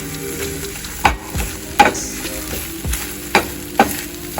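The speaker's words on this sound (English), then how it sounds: "So I am heating up a tortilla because I'm gonna be making a burrito." A tortilla warms in a hot pan for a burrito while the pan gives off a steady soft sizzle, broken by several clattering knocks of a utensil against it, with no talking.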